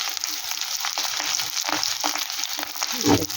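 Shrimp frying in a pan with salt for a pointed gourd and prawn mash, a steady sizzle with soft stirring and a louder burst near the end, no talking.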